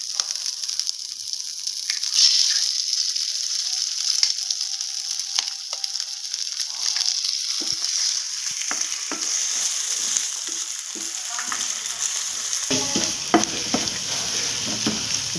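Eggs frying in a pan with drumstick flowers for a Tamil poriyal: a continuous sizzle with repeated scraping and stirring, close and steady, with no talk.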